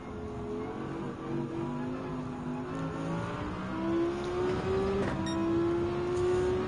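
Race cars in Gran Turismo 7 at the Nürburgring drone past with rising and shifting engine tones, several overlapping cars revving through gears at moderate distance, steady and continuous.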